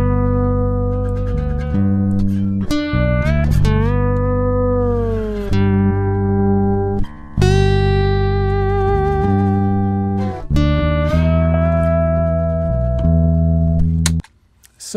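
Guitar recording played back after Melodyne pitch correction, a sequence of clear sustained single notes and bends with steady pitches, loud and close with no talking.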